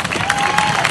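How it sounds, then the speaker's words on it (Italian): Applause from a crowd, dense and steady clapping filling the whole moment, fairly loud and close. "Passerei la parola a Daniel Marco Garcia, fategli un bel applauso"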